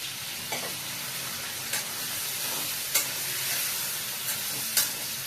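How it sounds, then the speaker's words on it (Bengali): Cubed taro and potatoes go into a pan of fried onions and fry there for a Bengali dish with prawns. A steady sizzle runs throughout, and a few sharp clicks of a spatula come through now and then. "এই পেঁয়াজে আমি এই গাঁটি কচু নিয়ে আলু কেটে রেখেছি, এটা দিয়ে দেবো।"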